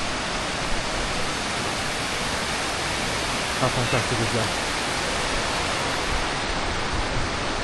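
Miniature waterfall in Krka National Park, Croatia, giving a steady broadband rush of falling water throughout, with a brief spoken remark over it partway through.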